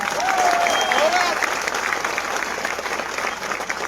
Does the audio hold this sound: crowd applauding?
yes